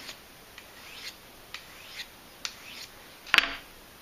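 A hunting knife edge is stroked against something to pull off the burr: about eight faint, quick scraping strokes at a steady pace, then one louder, sharper stroke near the end.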